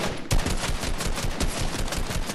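Rapid gunfire from a Fortnite weapon bursts out after a brief lull, a loud, dense stream of shots that continues steadily to the end with no voices over it.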